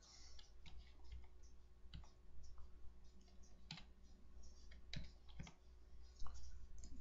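Mouse clicks while working in CorelDraw on a computer: a scattered series of faint, crisp clicks at an irregular pace, close to the microphone and quiet against a low steady hum.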